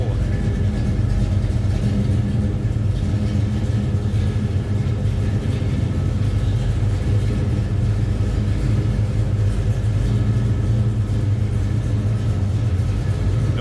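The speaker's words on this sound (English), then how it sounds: "Car idles nicely." A 1968 Pontiac GTO convertible sits idling, its engine giving off a steady, low, even rumble close by that holds constant throughout with no revving.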